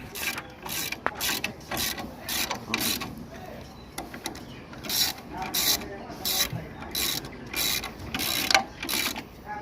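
Clutch pressure plate bolts being tightened with a ratchet on a 1974 Volkswagen van, repeated rapid clicking bursts of the pawl in an irregular rhythm, fairly close and moderately loud, with occasional metallic rubbing between strokes.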